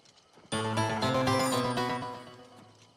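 Horse hooves clop in the Oblivion Remastered video game, a sudden loud burst of layered hoofbeats and tack noise that fades over two seconds after a quiet start.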